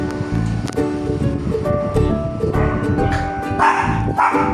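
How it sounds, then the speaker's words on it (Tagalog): A dog barks repeatedly in quick, close bursts over a busy background, the yaps overlapping and continuing throughout. "Makikasali ka na naman sa tahol."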